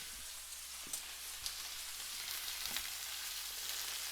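Thick, steak-style KuneKune pork chops sear in a hot pan, giving a soft, steady sizzle and crackle throughout with a few light taps and clinks.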